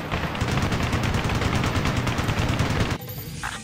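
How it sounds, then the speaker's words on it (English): Heavy gunfire in the combat flight game Ace Combat: Assault Horizon, a loud, dense rapid burst of shots that runs steadily for about three seconds, then drops to a quieter background rumble. "Heavy fire coming back at us."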